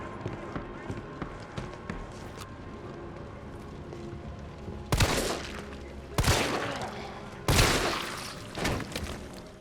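Gunfire aimed at Nemesis in the Resident Evil 3 Remake video game, with three loud, broadband bursts in the second half of the clip rising over a busy background of game sounds.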